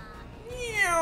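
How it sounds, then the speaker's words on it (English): A cat meows once in the Ultimate Chicken Horse video game, a short rising cry standing out clearly over faint background sound. "Meow!"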